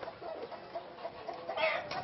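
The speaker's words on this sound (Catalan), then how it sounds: "Això és la gallina Menorca." A Menorca hen clucking at a village market fair in Sineu, Mallorca, a faint, short run of soft clucks against distant crowd murmur.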